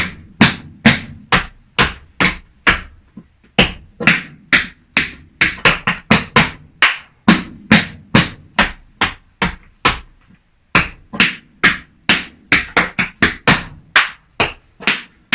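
Crisp tap-dance shoe strikes in quick, syncopated bursts, repeating a short rhythmic riff several times with brief pauses between phrases; close and loud, no talking.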